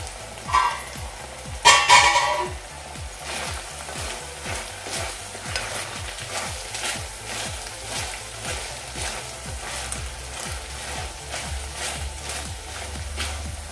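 A spoon scrapes and turns a cauliflower and green pea masala in a pan with a regular, repeated stirring rhythm over a low, steady sizzle, starting with a couple of louder clanks, close up.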